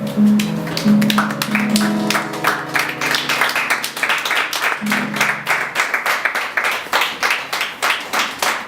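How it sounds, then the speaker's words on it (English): A crowd applauds, with dense clapping that starts strong and gradually thins into scattered, rhythmic claps, with brief tones in the background. "Round of applause for Niels Turp."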